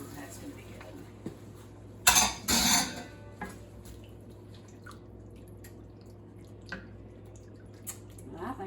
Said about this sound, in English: We're going to add our cream and milk mixture.